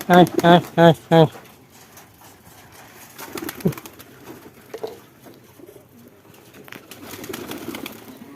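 Domestic pigeons kept on a rooftop cooing in a quick series of four close notes, followed by softer rustling and faint calls as a person talks.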